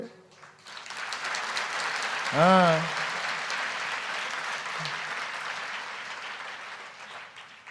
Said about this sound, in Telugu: కొడితే అట్లా ఉండాలి చప్పట్లు కొడితే